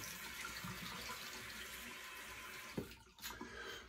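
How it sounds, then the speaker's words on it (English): Tap water runs steadily into a sink for a cold face splash, a constant close hiss that cuts off near the end, followed by a few splashes and drips. "I'm gonna do a wet, cold splash here."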